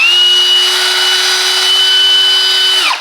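Loud, steady whine of an 18V Hychika cordless brushless hammer drill running at constant speed, a high motor tone with a strong low hum, spinning down abruptly near the end, with no talk.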